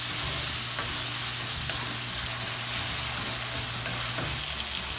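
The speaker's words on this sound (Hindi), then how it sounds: "टमाटर को कुक करने के लिए हम लोग थोड़ा सा नमक डालेंगे इसमें।" Tomatoes with added salt cooking in a pan for matar keema, a dense continuous close sizzle with faint stirring scrapes throughout, no talking.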